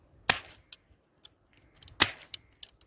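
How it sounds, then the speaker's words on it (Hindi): A small 8-shot 007 A25 model toy cap gun fires two sharp, loud cracks about two seconds apart, each followed by faint clicks and handling noise, up close with no talking. "ये हमारी 8 शॉट गन ना, ये काफ़ी छोटी है लेकिन आवाज़ बहुत करती है"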